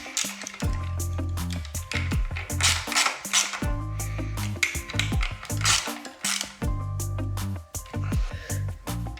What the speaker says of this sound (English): Tighten up the screws on the right side of the fork.